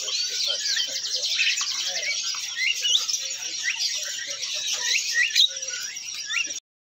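Jalak kebo starlings and other caged birds at a bird seller's stall chirp and whistle continuously, a busy overlapping chorus of bright, shrill calls that stays close and fairly loud throughout.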